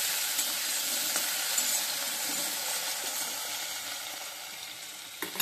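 Potatoes fry in a pan with a steady, close, bright sizzle that holds constant throughout, with a few soft stirring clicks and no speech.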